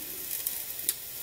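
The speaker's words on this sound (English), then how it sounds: "Onions are cooking." Onions sizzle in a pan as a quiet, steady crackling fry with a couple of brief sharper pops, heard close with no talk.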